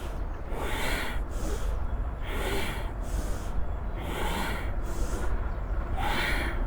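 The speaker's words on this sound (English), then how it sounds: "Deep inhale, exhale." Deep yogic breathing during a beginners' Kundalini yoga class, slow, even cycles of airy inhales and exhales, about six breaths, close and fairly loud with no talking.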